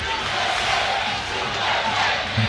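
A stadium crowd at a U-23 USA vs Colombia soccer match roars and cheers in a sustained wash of noise, swelling slightly as play builds.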